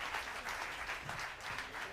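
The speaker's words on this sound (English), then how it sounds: "how about a big round of applause for our stage crew that's off and on the stage here" An audience at the Boss Loop Station US Finals gives the stage crew a round of applause: dense, even crowd clapping, fairly faint and steady throughout, with no talk over it.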